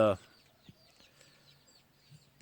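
Blue gamefowl chickens cluck softly on a farm: sparse, faint calls scattered after a brief loud sound at the start.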